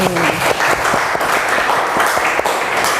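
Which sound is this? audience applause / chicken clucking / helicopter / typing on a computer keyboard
audience applause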